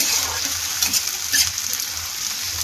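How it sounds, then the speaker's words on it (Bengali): Onions and chopped tomatoes sizzling in a pan for egg tarka, stirred together with a continuous close frying hiss broken by soft scraping stirs. "এবার সব একসঙ্গে ভালো করে একটু করে নেড়ে চেড়ে নেব।"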